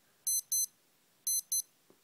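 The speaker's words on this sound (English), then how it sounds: "So we'll just wait a few seconds for the alarm to go off" A Casio F-91W digital watch alarm sounding two pairs of sharp, high electronic beeps, close and clear against near silence, followed by a faint click.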